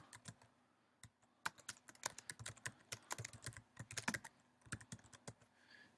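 Quick, uneven bursts of key clicks from typing on a computer keyboard, close and fairly quiet, with short pauses between runs of keystrokes.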